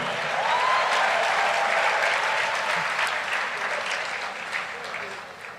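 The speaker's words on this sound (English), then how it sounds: "Big round of applause for you." An audience at an education talk breaks into sustained applause, dense clapping that holds steady and then slowly fades.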